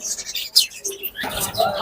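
Quick bursts of high, bright chirps and twitters from lutino budgerigars, close by, with a faint murmur of voices in between.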